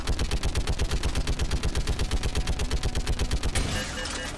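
Turret gunfire in Mass Effect 3, a steady, loud, rapid stream of evenly spaced shots hammering for about three and a half seconds before cutting to a lower rumble.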